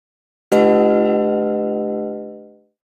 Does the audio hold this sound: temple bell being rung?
yes